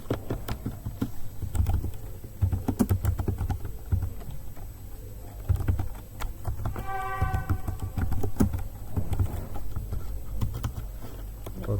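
Typing C++ code on a computer keyboard: steady close-up clatter of keystrokes in irregular quick bursts, with a brief beeping tone in the middle and no talk.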